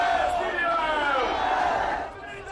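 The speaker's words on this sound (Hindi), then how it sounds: "भीड़ जय श्री राम के नारे लगा रही थी" Crowd chanting Jai Shri Ram slogans at a political rally as a helicopter lands, a sustained mass of voices with rising, wavering chant tones, fairly distant and steady.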